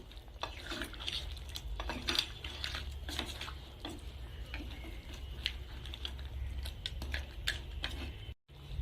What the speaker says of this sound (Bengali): এখন আমি সবকিছু ভালো করে একবার নেড়ে নেব